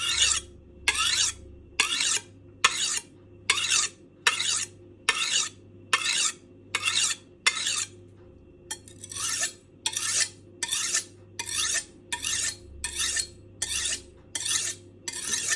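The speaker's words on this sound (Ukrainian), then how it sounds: "Проводимо вздовж бруска, одну сторону заточуємо, потім беремо іншу і до себе" A kitchen knife is drawn across a whetstone in steady, rhythmic rasping strokes, about twenty in a row, close and clear over a low background hum.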